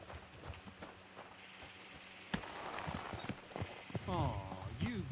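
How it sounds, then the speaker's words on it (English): Horse hooves clip-clop in a steady walking rhythm at close range in the video game Kingdom Come: Deliverance II, with a voice and other game sounds mixed in toward the end. "I'm calling my horse."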